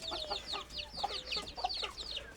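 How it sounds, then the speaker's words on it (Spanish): Hen clucking among her chicks on a ranch, a steady run of short, close clucks mixed with the chicks' higher peeps, with no talk. "Y ahí están con su mamá, los pollitos ahí."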